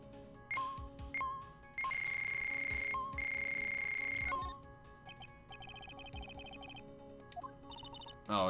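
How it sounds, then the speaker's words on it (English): An alarm ringtone in the Phoenix Wright: Ace Attorney – Justice for All video game rings in sustained electronic tones that start, pause and resume, over soft game background music, with no talking. "Oh, it's another alarm."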